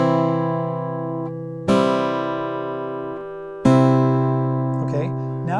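Guitar fingerpicking pattern with the thumb alternating between bass strings under plucked treble notes, three strummed-then-decaying groups at a steady moderate pace, close and clear, with a brief voice at the end.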